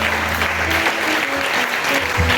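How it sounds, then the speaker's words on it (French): A church congregation applauds loudly and continuously, a dense crowd of clapping hands close by, with faint voices mixed in. "Est-ce qu'on peut encore honorer par notre acclamation"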